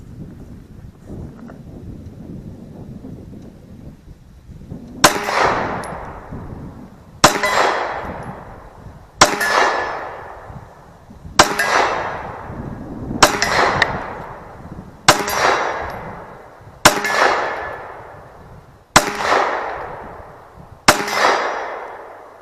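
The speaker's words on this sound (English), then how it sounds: "see if we can get hits on steel with the new sights" Eight sharp M&P pistol shots ring off steel targets at 50 yards, each a loud crack with a metallic clang that decays, spaced about two seconds apart, while light wind hisses on the mic.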